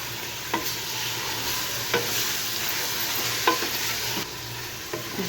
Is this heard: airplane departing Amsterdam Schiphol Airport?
no